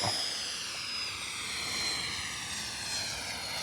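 Freewing A-6 Intruder 80mm electric ducted fan model jet whining steadily at high pitch as it takes off, a smooth continuous rushing hum with slowly shifting tone, fairly faint and without voices.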